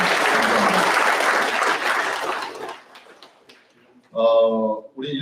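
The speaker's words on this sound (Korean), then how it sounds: "다시 한번 뜨거운 감사의 박수로." An audience at a 2023 Korea-US peace and unification forum gives loud applause of thanks for about three seconds, then it quickly dies away and a voice begins speaking.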